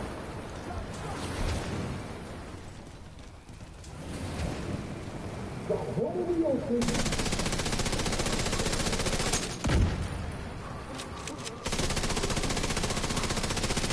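Gunfire in The Division 2 on PS4: dense, continuous automatic bursts and booming blasts with a rumbling, rain-like wash of effects, loud and sustained, cutting in sharply partway through after a quieter stretch.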